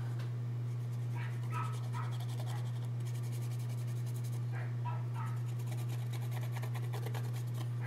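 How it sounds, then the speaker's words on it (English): Several dogs outside let out faint, distant barks in two short clusters, with some panting. A constant low electrical hum and scratchy noise from nearby sit over them. "Sorry if you hear that barking."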